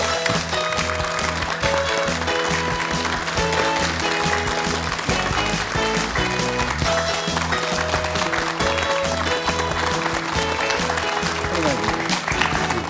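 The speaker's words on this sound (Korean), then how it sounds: "박수로 맞이해 주시기 바랍니다." A television studio audience claps steadily to welcome a guest onto a Korean morning talk show, loud continuous applause mixed with background music and a host's voice.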